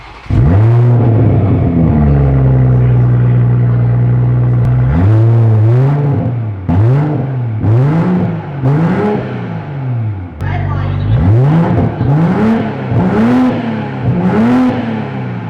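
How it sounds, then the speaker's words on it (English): A Toyota Supra with its exhaust removed starts and revs, a loud close engine drone rising and falling through repeated throttle blips, with a steady idle between bursts and people talking over it. "we are gonna lower the car and start it without the exhaust on"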